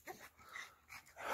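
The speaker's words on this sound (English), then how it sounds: "Now I gotta get her unloaded with the crazy dog chained up short so it won't eat me or Timmy." A dog on a short chain whimpers faintly, giving a few soft, thin whines and yips over quiet background noise.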